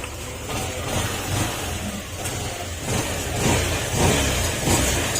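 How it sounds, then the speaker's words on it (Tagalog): A Yamaha NMAX 155 scooter engine runs steadily after a misfire repair, idling close up with slight revving surges and no speech over it. "Ayan, mandar na siya. Hindi na siya palyado."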